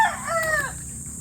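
A rooster crows once, a clear rising and falling cock-a-doodle-doo lasting under a second, close by over faint background noise, followed by quiet.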